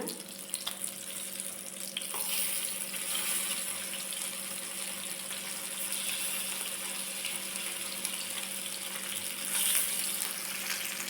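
Oil sizzles and bubbles steadily as fish deep-fries, a constant crackling hiss with a faint hum underneath, no voices.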